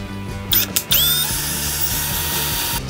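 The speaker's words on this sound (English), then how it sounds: "I'm going to drill some small holes so that the screws do not split the wood" A power drill whines steadily at close range, briefly revving and pausing twice near the start, then boring continuously into a wooden fence board, drilling small pilot holes.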